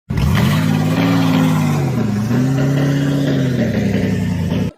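A car engine runs loud and close with a steady drone whose pitch sways gently up and down, cutting off abruptly at the end, with no voices.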